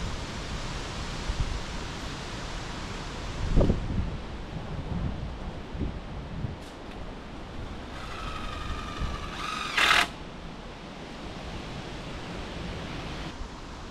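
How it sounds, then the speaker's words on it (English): Steady broadband rushing of wind fills the whole clip, with a thump partway through and a brief high-pitched chirping burst near the end. "She's a windy day today"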